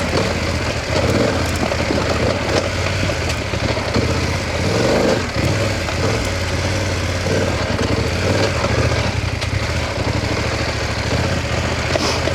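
A BMW F900GS motorcycle rolls slowly along a dirt road, its engine burbling at low revs with a steady, slightly uneven throb and faint wind and ground noise, no voices.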